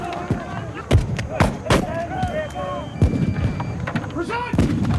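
Crimean War reenactors fire Minie rifles in a volley, giving several sharp, loud cracks spread irregularly across the span rather than one simultaneous blast, with voices talking between shots outdoors.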